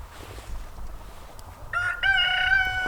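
A rooster in a backyard flock of about thirty chickens, kept in two pens, crows loudly and close by. Two harmonic calls follow one another over low background rumble.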